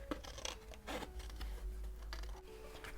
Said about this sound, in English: Now I've just cut 3 of those flowers out, the purple ones